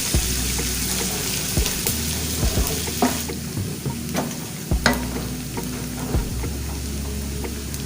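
Onion added to a hot pot of soup base with locust bean, frying with continuous sizzling and repeated stirring clatters and scrapes, loud and close, no talking.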